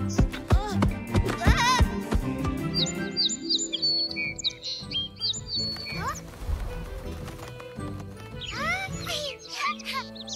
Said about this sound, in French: On avait enfin réussi à attirer des oiseaux avec notre appât.